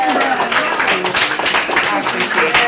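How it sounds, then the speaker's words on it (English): Audience applause after a talk by Dr. Amber L. Howlett, dense close clapping throughout the short stretch, with a voice speaking over it. "A big round of applause for Dr. Amber."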